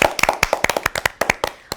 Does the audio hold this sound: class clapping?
yes